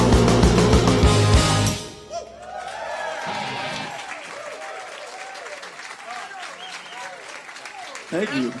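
A large concert crowd of several thousand invited guests bursts into loud, dense applause that cuts off abruptly, after which someone speaks over the fading room.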